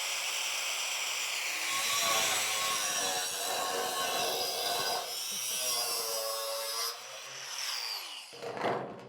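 An angle grinder's cut-off wheel bites into a steel stud with a loud, steady high-pitched whine and rough grinding hiss, dropping off as the cut ends.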